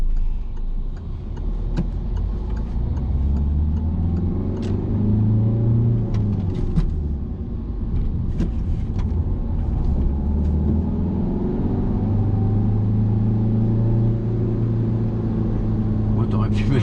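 Car engine straining in low gear during a driving lesson, a steady low rumble with slight revving changes throughout, heard from inside the cabin under an instructor's speech.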